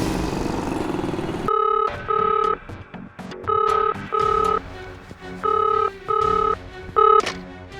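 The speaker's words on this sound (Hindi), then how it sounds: "सर, श्रेया का फ़ोन है सर." A telephone rings in clear double bursts, repeating steadily about four times, after a short stretch of louder, noisier background.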